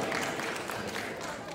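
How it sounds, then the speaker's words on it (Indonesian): Brief burst of crowd applause at a Christmas and New Year community gathering, dense clapping that holds steady and fades slightly over a second and a half. "Tepuk tangan sekali lagi mau ketua."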